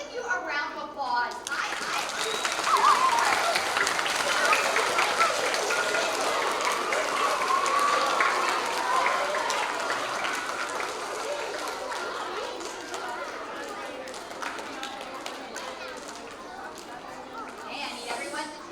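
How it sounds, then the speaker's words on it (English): Students at a school assembly applaud in a long, dense wash of clapping and crowd noise that holds steady for most of the stretch, with voices and chatter mixed in before it fades near the end. "Let's give you a round of applause."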